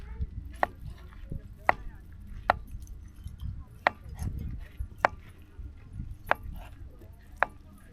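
Food is chopped on a board for a camping grill at Lake Mead, with about nine crisp knife strikes landing at a fairly regular pace over low background rumble and quiet talk.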